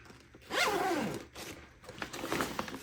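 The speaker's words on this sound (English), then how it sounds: "It's a pretty heavy duty zipper." A heavy-duty backpack zipper is pulled open in one long, scratchy rasp, followed by a second rougher, shorter zipping stretch, heard up close.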